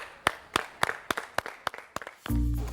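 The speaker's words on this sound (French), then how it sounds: "On ne touche plus à rien et on vous applaudit" A small group at the close of a televised cooking competition final claps in about nine distinct, fairly sparse claps, ending with a louder burst of noise.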